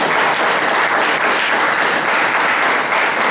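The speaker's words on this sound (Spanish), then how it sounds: "un aplauso para ti de nuevo." Sustained, loud applause from an audience at a public doctoral thesis defense, a continuous wash of many hands clapping evenly throughout with no pauses.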